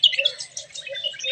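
Small birds chirp and tweet in quick, overlapping calls close by while pecking at pieces of flatbread scattered for them, with no talking over the sound.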